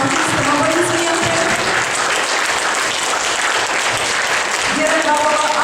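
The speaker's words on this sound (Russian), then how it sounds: "Аплодисменты." A hall audience at a Komi literary and theatre event applauds the performers with continuous, even clapping that holds at a steady level throughout.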